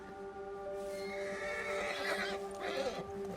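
A horse neighs in Red Dead Redemption 2 during a spring storm, a loud whinny rising over steady ambient game noise with faint hoof clops, and no talking.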